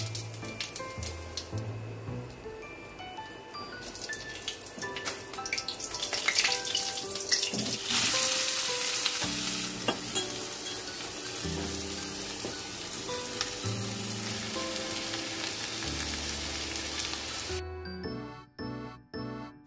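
Potatoes fry with a cumin and dry chilli tempering, a loud continuous sizzle and crackle mixed with running water and stirring, close by, with background music throughout and a brief gap near the end.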